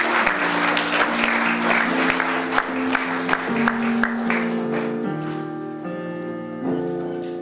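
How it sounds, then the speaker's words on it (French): A church congregation at a Paris miracle rally breaks into sustained clapping, dense and lively at first and thinning toward the end, with sustained keyboard chords ringing underneath. "Nous acclamons pour la parole de Dieu."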